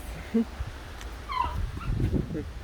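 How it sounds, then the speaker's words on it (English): Puppies whimper and yip in thin, high cries over a steady outdoor background hum at an abandoned mine in Albania, a few short squeals spread across the moment. "oh, little puppies."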